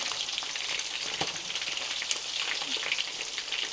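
Pieces of turkey for Haitian fried turkey (tasso) frying in hot oil on a medium stove, a steady close sizzle with small crackles and pops throughout, no voices.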